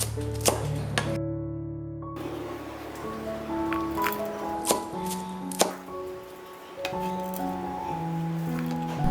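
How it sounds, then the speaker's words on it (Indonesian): A knife slices through chilies and shallots on a cutting board, with a run of distinct chopping taps of varying loudness over a steady low background hum. "Cabai dan bawang sisanya kita iris."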